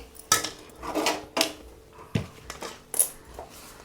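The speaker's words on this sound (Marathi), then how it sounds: "तर चला मी पातेला खाली उतरवते" A cooking pot lifted off a gas stove after the flame is turned off, heard as several sharp, close metallic clanks and knocks spaced unevenly over a few seconds.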